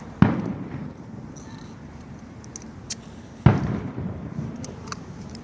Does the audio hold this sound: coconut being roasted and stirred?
no